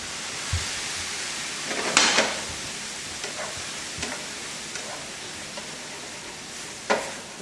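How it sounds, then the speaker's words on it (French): A frying pan deglazed with white wine while cooking an andouille dish, a steady soft sizzle with occasional scraping and clinks, faint and close, no voices. "Alors maintenant, on va déglacer avec du vin blanc."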